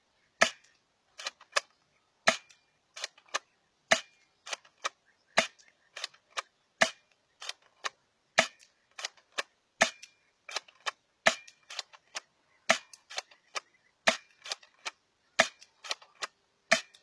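An airsoft pistol gives a long series of sharp, close, dry clicks and snaps, irregularly spaced across the whole stretch with silence between, as the slide is racked back and pushed until it catches.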